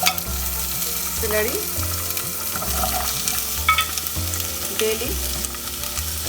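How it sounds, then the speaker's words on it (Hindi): Onion, ginger, garlic, carrot, celery and bay leaf sizzle steadily in hot oil for chicken soup, with a spoon scraping and stirring the pan in a loose repeating rhythm, close and fairly loud. "जितना वेजिटेबल्स हमने लिया है सब एक एक करके तेल में डालना है"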